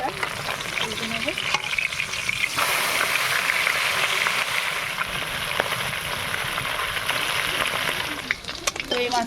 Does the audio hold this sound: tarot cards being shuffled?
no